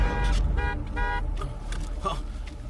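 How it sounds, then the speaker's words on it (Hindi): A car horn honks twice in quick succession, loud and close, followed by lighter street noise and a couple of brief sounds. "बजाओ हॉर्न"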